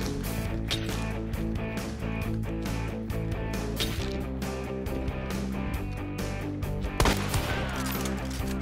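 Rapid, sharp gunshots in Hunt: Showdown, a string of close cracks over a droning backdrop of game ambience, with one especially loud shot standing out near the end.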